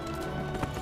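Horse hooves clip-clop briefly in the fantasy game Neverwinter, a quick rhythmic run of steps close up under dense game ambience.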